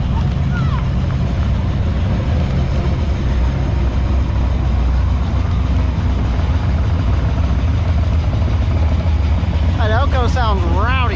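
A loud car at the Route 66 festival rumbles with a deep, continuous engine roar close by, steady and powerful throughout, with a few brief whistling sounds near the end.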